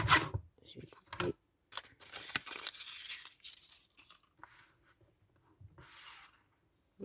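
Paper for a junk journal is cut and handled at close range in scratchy, uneven bursts with short pauses, under a soft, intermittent voice.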